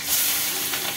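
Cumin seeds sizzling in hot oil in a pan, a loud, continuous frying hiss heard close up, alone and without speech.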